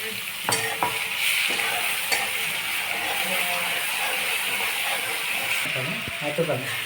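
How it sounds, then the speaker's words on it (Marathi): Ground green chili paste frying in a pan of hot oil with cumin and asafoetida, a constant close sizzle broken by scraping, clattering stirs of a spoon against the pan. "आता मी हिरोईन मिरची ते वाटलेलं होतं ना ते टाकणार आहे"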